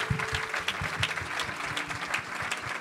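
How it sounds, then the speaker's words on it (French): Congregation at a church service clapping hands together in a steady rhythmic beat, dense and lively from a crowd, with some voices faintly mixed in. "Give a hand clap to the Lord."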